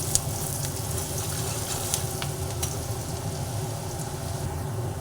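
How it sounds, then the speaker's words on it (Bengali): Onions fry in oil while being stirred, producing a dense, steady sizzle punctuated by small crackles and soft scraping of a spatula, close and moderately loud with no voices. "তেলের মধ্যে পেঁয়াজগুলোকে দিয়ে পেঁয়াজগুলো নাড়াচাড়া করে করে পেঁয়াজগুলোকে ভেজে নিলাম"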